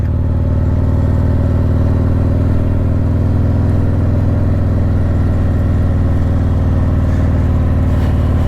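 A Kawasaki 900 motorcycle cruises along a highway in second gear, its engine a loud, constant droning rumble with heavy wind noise throughout and no talking.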